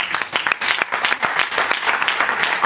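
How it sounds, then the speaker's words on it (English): An audience at a live educational talk gives a brief round of applause: brisk, uneven clapping from a moderate crowd, close and fairly loud for under three seconds. "Can we please give a round of applause to Ms. Soluwakemi?"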